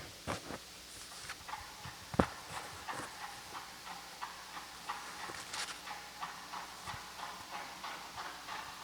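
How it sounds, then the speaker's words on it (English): Horse hooves clip-clop in an uneven patter that drifts around the space, mostly soft with a few sharper knocks over a low background hiss. "So you can kind of hear the horse going around the room."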